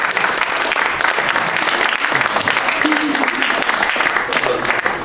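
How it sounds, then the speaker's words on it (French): A church congregation gives sustained, dense applause for the mothers at a Mother's Day service, loud and close throughout with a faint murmur of voices beneath. "Est-ce qu'on peut acclamer les mères, s'il vous plaît?"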